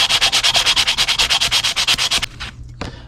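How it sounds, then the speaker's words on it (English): Flat sandpaper lightly rubs a carburetor gasket surface on a Mikuni carb from a Suzuki VS800 Intruder, a fast, even series of about twenty close rasping strokes, then a short pause and one last stroke. "And then some flat sandpaper, and just lightly get the last of it off."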